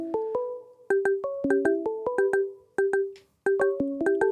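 A melodic phone ringtone plays close and loud, bright chiming notes stepping up and down in short repeating phrases with brief gaps between them.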